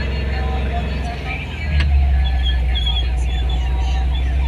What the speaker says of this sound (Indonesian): Itu macet ya.